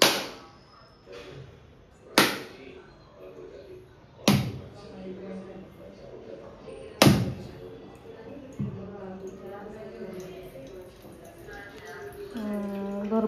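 A coconut for modak is cracked open with a series of sharp, loud whacks spaced a couple of seconds apart, between which people talk nearby.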